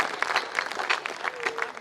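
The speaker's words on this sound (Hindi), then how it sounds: "एक बार तालियां बजा करके माहौल दे दीजिए।" An audience claps at a Hindi poetry recitation, a short burst of dense applause that stays fairly even, with a brief tonal sound near the end.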